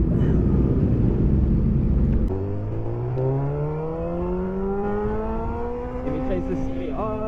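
Honda CBR600 and Suzuki Hayabusa superbikes fly past at sunset, a loud engine roar with a rising whine as they sweep by, under heavy wind noise.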